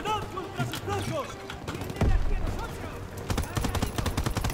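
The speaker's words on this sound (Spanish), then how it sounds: "Ametralladoras en las escaleras." Machine gun fire during a World War II combat mission in Call of Duty: WW2, with bursts of rapid shots that grow denser near the end, mixed with battle noise and voices.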